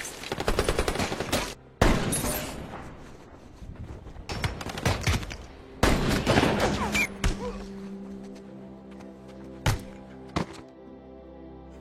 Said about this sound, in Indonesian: Martino pun segera membantu Jack mengalihkan mereka dengan tembakan snipernya